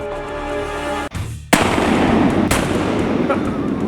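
Shotguns fire at ducks during a waterfowl hunt in flooded timber in Arkansas: two sharp, loud, close blasts about a second apart, each followed by a ringing echo through the trees.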